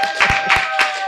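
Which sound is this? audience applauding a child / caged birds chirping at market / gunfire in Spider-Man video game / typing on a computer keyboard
audience applauding a child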